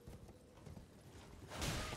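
A horse's hooves clip-clop at a trot in the video game Elden Ring, a faint, rapid rhythmic patter under low ambient game sound.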